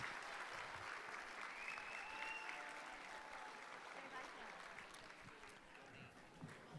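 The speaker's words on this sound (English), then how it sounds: "Give yourselves a huge round of applause" Gala audience applauding after a fundraising total is announced, a sustained broad wash of many hands clapping, quiet and somewhat far off, with some faint voices mixed in.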